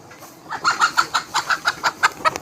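A chicken in a Sundarbans village clucks in a quick, even series of about a dozen sharp, close calls, alone without talk.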